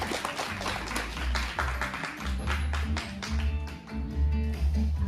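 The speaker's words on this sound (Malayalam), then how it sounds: "നല്ലൊരു കൈയ്യടി." An audience claps at a Christmas and New Year celebration held indoors, a steady wash of applause with quick hand taps running under background music throughout.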